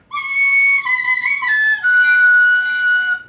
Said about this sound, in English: my tin whistle straight from Dublin